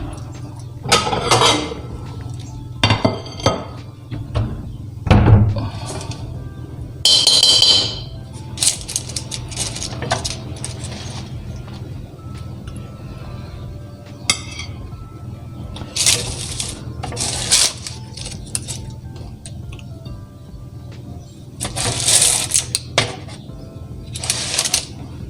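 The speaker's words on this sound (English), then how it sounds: "let's dish it up" Food is dished up onto plates in a home kitchen, with repeated clinks and scrapes of utensils against dishware in short bursts, fairly close, with little talk.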